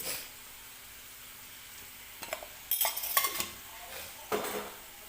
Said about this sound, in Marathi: आणि परत एकदा मिक्स करून घेऊया